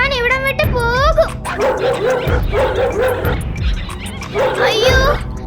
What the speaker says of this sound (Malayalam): അയ്യോ, പട്ടിക്കുര കേൾക്കുന്നല്ലോ.